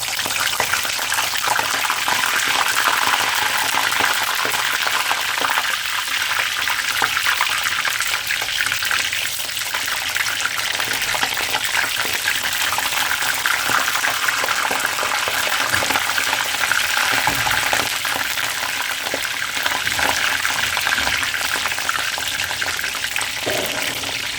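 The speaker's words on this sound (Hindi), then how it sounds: "फ्राई कर रहा हूँ। और उसके साथ साथ में हॉट डॉग भी डाल दूँगा।" Food frying in a pan with chaat masala, hot dogs to be added: a constant dense sizzle and bubbling hiss runs unbroken and fairly loud throughout, with no voices.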